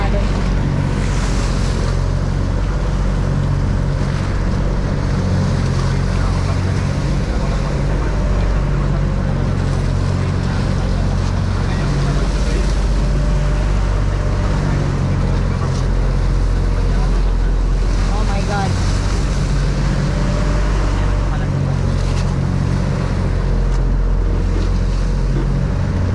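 A small bangka boat pitches on a choppy sea, with loud, constant wave wash and engine-like rumble, buffeted by heavy wind gusting across the microphone for the whole stretch.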